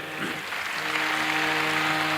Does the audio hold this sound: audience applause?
yes